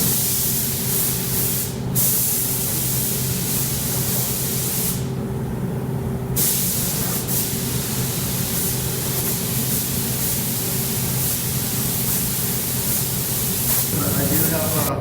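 Spray gun laying epoxy primer onto a bumper for a 2004 GMC Sierra 2500, a steady loud hiss running nearly the whole time with a couple of brief breaks, alone without talk.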